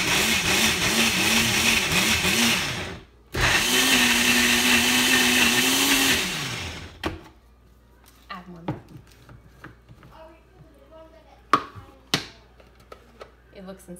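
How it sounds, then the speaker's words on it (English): A blender mixing an apple pie milkshake whirs loudly for several seconds, stops briefly, starts again and winds down, followed by scattered clinks and light handling noises. "Put it in my blender thing."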